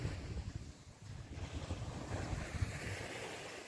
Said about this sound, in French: la mer est d'huile depuis plusieurs jours et c'est super agréable